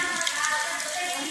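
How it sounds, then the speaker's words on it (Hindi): Steady, dense hiss of rain falling on a surface, continuous and close throughout. "बारिश रुकने का नाम ही नहीं ले रही"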